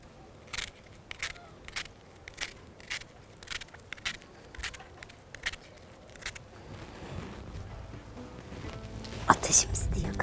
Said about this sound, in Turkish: Şimdi soğanı doğrayarak başlayalım.